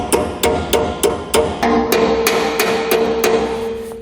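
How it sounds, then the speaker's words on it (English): A hammer taps a pivot bushing onto a B and W Companion fifth wheel hitch on a 2019 Chevrolet, about a dozen evenly spaced metallic ringing strikes, close and loud with no talking. "So now we can just take a hammer, being careful not to hit our fingers. We can just go ahead and tap this on."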